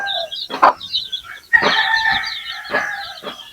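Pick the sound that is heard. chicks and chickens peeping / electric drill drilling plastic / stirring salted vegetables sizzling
chicks and chickens peeping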